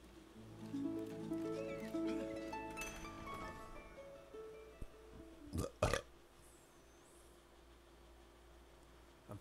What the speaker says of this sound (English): Full of burps.